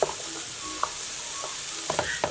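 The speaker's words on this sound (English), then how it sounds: "I'm going to saute those veggies" Vegetables for jambalaya sauté in a pan, a soft, steady sizzle broken by a few light scrapes and taps of a utensil, quiet and close.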